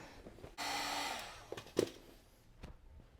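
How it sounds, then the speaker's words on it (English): A racquet stringing awl has its tip heated by a small torch or lighter, giving a steady hissing roar for a couple of seconds, then a few brief clicks and taps nearby. "So I'm going to go ahead and heat the tip of the awl and for about 10 seconds"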